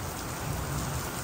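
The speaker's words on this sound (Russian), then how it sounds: "Вот это дождик, прям стеной." Heavy rain pours steadily during a storm in Lecce, Italy, a dense, even wash of drops striking the ground, close and continuous, with no voices over it.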